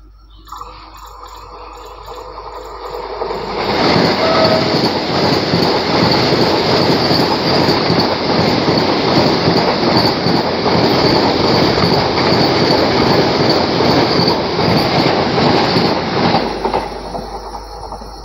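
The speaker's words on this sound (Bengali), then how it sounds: "পেছন থেকে আসছে 20665 চেন্নাই থেকে তিরুনেলভেলি যাওয়ার বন্দে ভারত এক্সপ্রেস, যার জন্য আমাদের এই ট্রেনকে দাঁড় করিয়ে রেখেছে।" A Vande Bharat Express, train 20665 from Chennai to Tirunelveli, thunders past a halted local train, a loud sustained roar of wheels and rushing carriages with squealing and clatter lasting about thirteen seconds before fading away.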